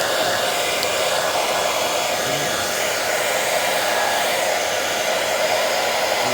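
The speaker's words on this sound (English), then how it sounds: "Probably not the best hairdryer in the world, but" A hairdryer blows steadily at close range, a continuous loud whooshing hum with no pauses.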